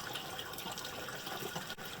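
Tap water runs steadily into a kitchen sink full of dirty dishes, a constant broadband splashing rush that holds for the whole stretch with only a brief dip near the end.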